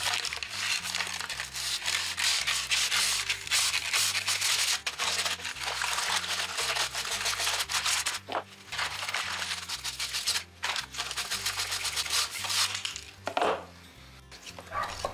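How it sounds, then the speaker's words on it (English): Steady abrasive rubbing of 150 grit sandpaper lightly sanding the ends of PVC pipe, a continuous, close scratchy rasp with brief pauses between strokes and no talking. "Use 150 grit sandpaper and lightly sand each end up to the mark."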